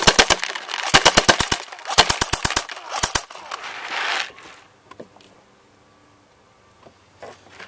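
An HK MP5 airsoft gun fires full auto in rapid, sharp clattering bursts, several short strings of shots close together, then falls to near silence with a faint shot near the end.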